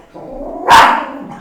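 A single dog gives one loud, sharp bark close by, preceded by a low, soft growl and followed by quiet.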